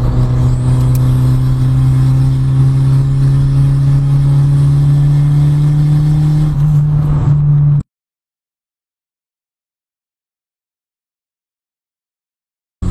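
Turbocharged car engine, running lean under load, holds a loud steady drone with pitch rising slowly as the pedal is pressed, then cuts abruptly to silence.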